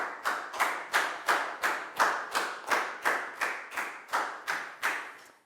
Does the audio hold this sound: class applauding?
yes